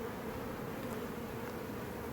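A dense crowd of honey bees covering a backyard hive frame the day after swarming makes a steady, unbroken buzzing hum, close and even throughout.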